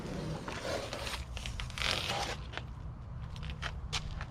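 Transfer tape peels off vinyl stripes on a Mustang with a rasping, crackly tearing sound, followed by a few short sharp peeling ticks, close and fairly quiet.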